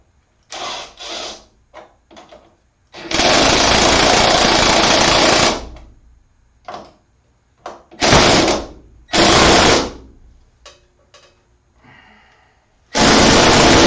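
Power drill boring through metal in a fabrication shop, several loud bursts of whirring, one long several-second run and a few shorter ones, separated by quiet gaps and small clanks.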